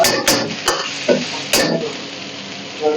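Chilli paste sizzling in a pan while a spoon stirs it, with soft steady frying under a few sharp scraping clinks of utensil against metal.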